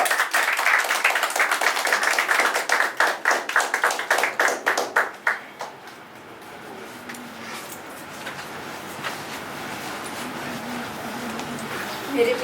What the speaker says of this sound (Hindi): आप लोग जोरदार ताली से उनका स्वागत कीजिए